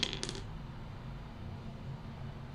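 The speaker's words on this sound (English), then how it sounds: "I'm going to take my dice bowl and see what's coming through for you." Several dice clatter into a selenite crystal bowl in a quick burst of bright clicks at the very start, then settle into a low steady background hum.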